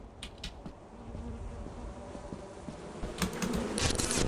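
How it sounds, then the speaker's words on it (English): A bee's nest buzzes in the horror co-op game Lethal Company, a steady insect drone that grows louder toward the end of the stretch, mixed with faint clicks and game noise. "Listen, Austin, I need to grab this bee's nest."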